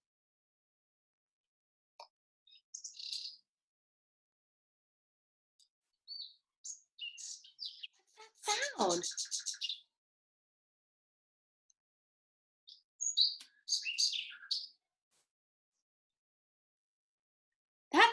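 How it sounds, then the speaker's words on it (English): Birds chirping in short scattered bursts of high tweets separated by quiet gaps, fairly faint and heard alone before a voice asks a question. "Those were birds chirping."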